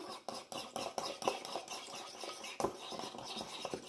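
Light mustard dressing with calamansi vinegar being stirred for a piémontaise salad: quick, close scraping and clinking of a utensil against a bowl in an irregular, steady rhythm, with no talk.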